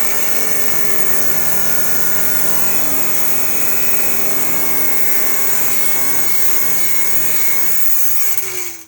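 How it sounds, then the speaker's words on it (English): An angle grinder cuts through the front end of a Porsche 356 during restoration, a loud continuous whine grinding steadily for nearly nine seconds before stopping abruptly at the end. "so we've upgraded to the angle grinder. Hopefully this should chop it off in a matter of seconds."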